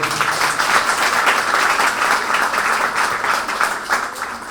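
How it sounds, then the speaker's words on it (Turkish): A crowd claps loudly and continuously at a political address in Dalaman, Turkey, the applause dense and sustained without a break for the whole stretch. "Kendinize bir alkış istiyorum."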